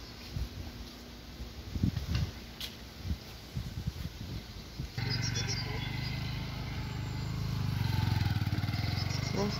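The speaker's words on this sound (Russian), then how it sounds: "Даже на мотоцикле едут." A motorcycle engine drones nearby and builds louder toward the end, after a stretch of faint forest noise in Zakarpattia with scattered bleat-like calls.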